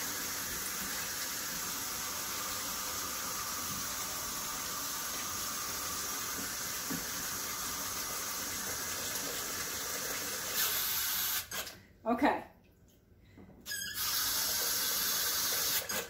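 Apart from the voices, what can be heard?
water poured into pot of wild muscadine grapes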